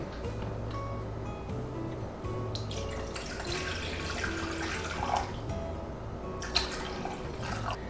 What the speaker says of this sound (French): On va ajouter 297 g d'eau filtrée.